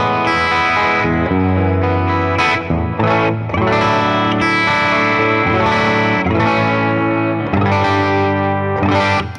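Electric guitar on the humbucker pickup played through a Supernova Zoeldrive overdrive pedal into a Deluxe Reverb amp, loud sustained distorted chords and ringing notes with short gaps between phrases, no talking.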